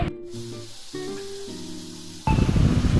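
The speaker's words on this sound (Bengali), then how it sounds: "আমি অ্যাড করে দিচ্ছি অল্প পরিমাণ জল" A splash of water hits fried spice masala for khichuri, bursting into a loud, close hiss and sizzle near the end after a quieter stretch of low kitchen hum.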